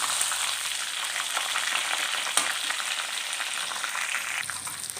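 Eggplant frying in oil in a pan, a dense, even crackling sizzle heard up close and fairly quiet, with a single faint clink midway and no talking.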